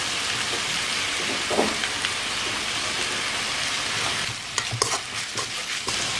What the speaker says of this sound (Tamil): எண்ணெயிலேயே வதக்கணும்.